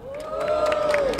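A crowd roars and cheers at a rap battle, a dense burst of shouting and whooping with a rising held yell over the noise, loud and close.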